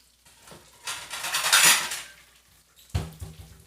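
Goat cheese croquettes coated in panko breadcrumbs deep-fry in hot oil with a soft sizzle, and a utensil clatters and scrapes against the pan in a loud burst before it fades, then strikes again near the end.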